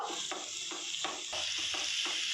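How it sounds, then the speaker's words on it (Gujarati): Mixed vegetables for a mix veg sabji fry with a soft, steady sizzle in a pan while a spoon stirs them in a regular rhythm of scrapes, with no voices. "આ સબ્જીને આપણે 4 થી 5 મિનિટ સુધી ફ્રાય કરવાનું છે."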